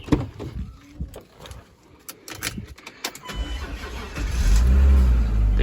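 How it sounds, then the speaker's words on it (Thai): A German car with an automatic gearbox cranks and fires up at close range, scattered clicks and handling noise giving way to a steady, loud low engine rumble that builds and holds over the final seconds. "สตาร์ทเครื่องให้ชม"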